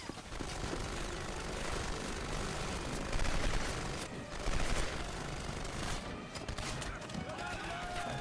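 Heavy machine gun fire in the shooter game Turning Point: Fall of Liberty, dense sustained bursts with louder surges and explosions, with someone talking over the gunfire.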